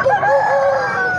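A fighting rooster crows once at a poultry market in Badami Bagh, Lahore, its call clear and close with faint background noise.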